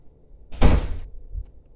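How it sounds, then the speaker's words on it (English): A door slams shut nearby, a single loud, low, heavy thud with a brief rattle and a faint lingering boom, surrounded by quiet room tone. "that's a very rude door slam"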